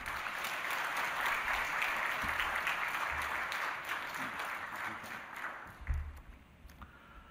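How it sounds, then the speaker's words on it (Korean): A church congregation applauds to welcome a visiting missionary, a dense, sustained patter of many hands clapping at once that gradually thins and fades toward the end, with a few faint thumps. "오늘 선교사님 나올 때 우리 박수로 환영하였으면 좋겠습니다."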